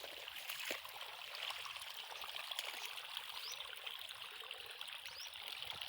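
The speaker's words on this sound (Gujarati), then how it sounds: "જો લો મિત્રો, આ પાણી છે" Irrigation water flows steadily through a farm field channel, a soft continuous trickle and stream wash that stays even and fairly faint throughout, with no voices.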